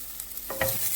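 Garlic dropped into a hot pan, a brief burst of crackling sizzle with a light stir, close and fairly quiet.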